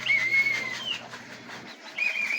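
A racing pigeon returning to its loft during a summer race, with close, clear cooing and whistling bird calls in cool, drizzly conditions, heard alone with no talk.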